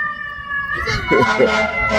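A fire truck siren wails nearby on a New York street, its tone holding then sliding and rising, loud and mixed with street noise and voices talking over it.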